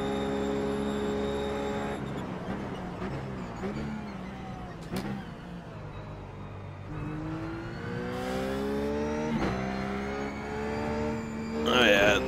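Ruf GT3 race car in iRacing at VIR with a steady engine drone that rises and falls through gear changes and revs, with a voice talking over it much of the time.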